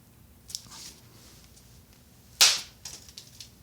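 A Tree Thrasher deer call imitates a breaking stick: two sharp cracking snaps, a small one followed by a louder, brighter crack near the end, then faint crackles, close and otherwise quiet.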